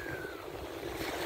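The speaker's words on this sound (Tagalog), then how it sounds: "Kinig ng alon ng dagat." Sea waves washing onto Arenal beach in Mallorca, a continuous broad rushing surf with wind noise on the microphone, steady and fairly loud with no talk.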